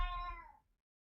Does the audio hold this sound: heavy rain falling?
no